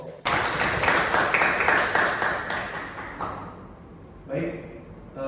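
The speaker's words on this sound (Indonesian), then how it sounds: "Ayo tepuk tangan dulu untuk kita semua." A group in a university business meeting breaks into loud, dense clapping that holds for a few seconds, then fades. A voice begins speaking as the applause ends.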